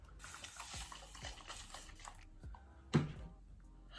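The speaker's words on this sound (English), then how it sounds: "Just gonna spray my face with just this water." Short bursts of water are sprayed onto a face from a mist bottle, faint and close. A louder spritz lands near the end, over quiet room tone.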